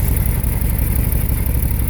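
A Honda ST1100 engine fitted in a Triumph Herald idles through a Ducati muffler. The deep, meaty, pulsing exhaust note is steady and loud, recorded about a metre away, with no talk.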